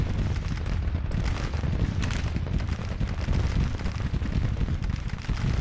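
Continuous rumbling battle noise from 20-pounder Parrott artillery in a Civil War strategy game at Petersburg, a dense, steady wash of distant booms and gunfire with no clear separate shots.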